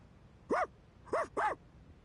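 Three short, yelping dog barks from Persona 3 at midnight: a single bark, a pause, then a quick pair, fairly close and standing alone over a quiet background.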